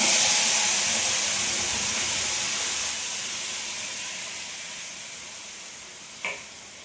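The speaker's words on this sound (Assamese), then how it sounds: "আমৰ পাল্পখিনি ইয়াতে মই ঢালি দিছোঁ।" Raw mango pulp for chutney hits a hot pan with a loud, broad steady hiss that slowly fades, followed by a short clack near the end.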